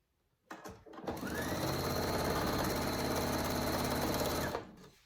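A sewing machine stitches around the fabric seam of a tiered animal hammock. After a couple of start-up clicks it settles into a fast, steady, close mechanical whir for several seconds, then stops abruptly.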